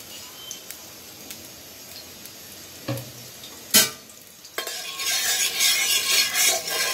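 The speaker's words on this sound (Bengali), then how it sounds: "কড়াইটা গরম হয়ে গেছে, আমি একটু সরষের তেল দিচ্ছি।" Mustard oil hitting a hot wok bursts into a loud, broad sizzle partway through, settling into a steady frying crackle with a few clinks of utensils before it; no one speaks.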